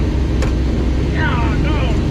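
A race truck fitted with a 6.0 engine idles at a steady, even rumble, with a constant broadband drone filling the whole clip.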